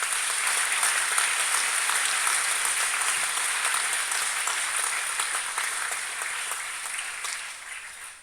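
Sustained audience applause fills a school assembly hall after a student is congratulated, steady dense clapping that slowly fades toward the end.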